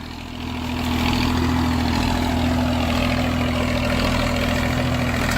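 A John Deere 36 HP tractor engine runs with a sugarcane weeder in a field, a steady, loud low diesel drone with a constant hum that swells in over the first second and holds throughout.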